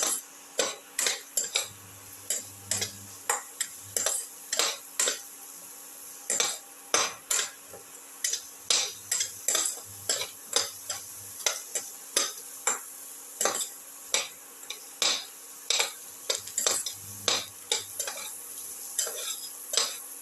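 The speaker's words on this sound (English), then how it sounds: "saute, saute and mix that in" Chicken sautés in a pan with a soft sizzle under repeated rhythmic scrapes and clinks of a utensil stirring against the metal, close and steady throughout; no voices.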